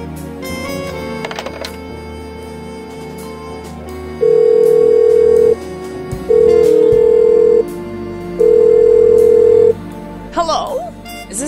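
Three long, steady phone ringback tones sound in a row, each about a second long and evenly spaced, with room hum underneath and a brief voice at the end.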